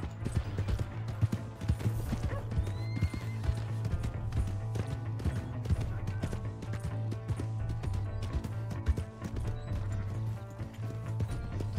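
Horse hooves clip-clop in a brisk continuous rhythm in Red Dead Redemption 2, with occasional whinnies and clinking tack over a low steady hum.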